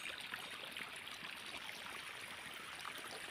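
Irrigation water flows steadily into a wheat field, a continuous broad rushing, gurgling wash that holds an even level throughout with no pauses and no talk.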